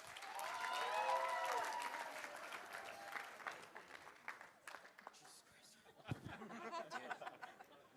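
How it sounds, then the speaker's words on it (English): Wedding reception guests applaud as the groom's sisters and cousins take the stage, the clapping fairly faint and mixed with chatter and chuckles, while a tonal sound rings out briefly at the start. "Please give them a big round of applause as they take on the stage."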